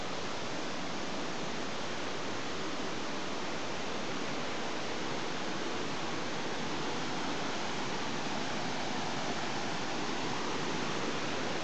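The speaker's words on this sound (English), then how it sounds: "this definitely is a waterfall. It's a step waterfall," A cascading step waterfall in the Blue Mountains creek country near Bilpin, heard as a steady broad rushing roar of falling water, even and continuous with no voices.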